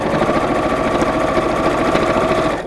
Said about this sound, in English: I'm just going to top stitch all the way around the edge, quite close to that top seam